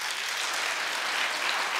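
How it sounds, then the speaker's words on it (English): Studio audience applause on a daytime TV talk show, a dense steady wash of clapping throughout with no voices over it. "Clap if she looks normal to you."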